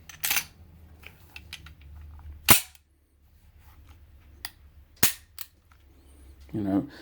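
Smith & Wesson 4566 pistol converted to .45 Super, its slide cycling in a few sharp, isolated metallic clacks separated by quiet pauses, close and loud.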